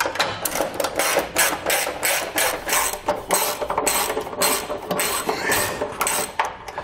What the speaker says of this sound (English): we're going to take a 10mm socket and wrench, and we're going to tighten the 2 bolts on the outside of each bracket